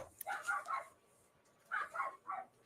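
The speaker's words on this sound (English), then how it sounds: "I'm sorry that the dog barked in the microphone." A dog barks close to a microphone in two short bursts of several yaps each, separated by a quiet pause, with no talking.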